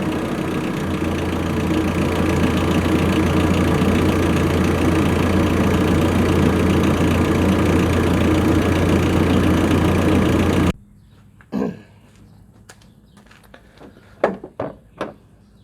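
A car engine held at about 1,500 to 2,000 RPM during a Sea Foam spray treatment hums steadily, loud and low, for most of the clip, then cuts off, leaving a few sharp knocks and clicks in near silence.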